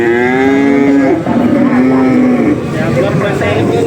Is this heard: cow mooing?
yes